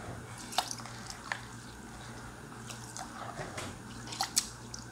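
Rice being washed by hand in a bowl of water, soft irregular splashes and drips against a faint steady background hum, close and quiet.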